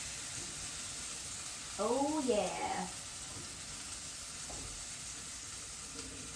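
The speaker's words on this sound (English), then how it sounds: "And the chicken is turned off, but it's still sizzling away." Chicken sizzles in a pan with a soft, steady fry hiss in a kitchen, while a voice makes a brief remark over it partway through.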